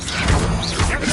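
A Confringo blast spell from Hogwarts Legacy, a short loud crashing burst with a whooshing sweep, heard alone and up close.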